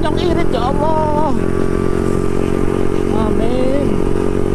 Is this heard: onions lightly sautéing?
no